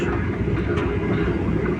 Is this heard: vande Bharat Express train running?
yes